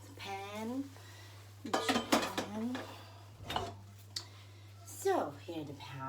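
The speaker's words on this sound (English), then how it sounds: "Here we go, the pan." A pan is handled before stir-frying, with clanks and scrapes of metal cookware and utensils heard in short bursts between stretches of a person talking.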